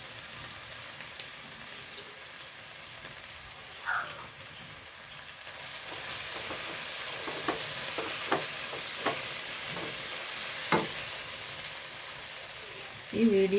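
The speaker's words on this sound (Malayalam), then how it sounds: "ഇനി ഇതിലേക്ക് ഞാൻ കുറച്ച് കരിവേപ്പിലിട്ട് കൊടുക്കുന്നുണ്ടേ" Curry leaves sizzle and crackle in hot oil while being stirred for chicken thoran, with a steady frying hiss punctuated by sharp spatula scrapes and clinks against the pan, fairly quiet and close.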